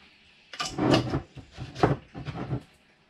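A kitchen drawer slides and clatters with its contents, several rumbling wooden scrapes and knocks heard up close over about two seconds, without talking.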